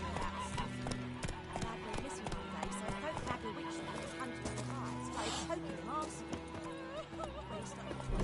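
Horse hooves clip-clopping at a gallop in The Witcher video game, a steady rhythmic beat under game music and voices.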